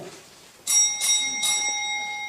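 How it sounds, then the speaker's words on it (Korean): A small bell on a church pulpit is struck three times in steady succession, each bright ringing tone hanging on and overlapping the next, close and clear with no voices. "이 강단에 있는 이 종이 여기 있는데"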